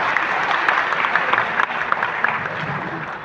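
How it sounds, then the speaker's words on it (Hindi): A gathered audience at a motivational business event claps energetically, with a few sharper individual claps standing out. Loud, close applause lasts about three seconds. "एक बार जोरदार ताली आपके लिए।"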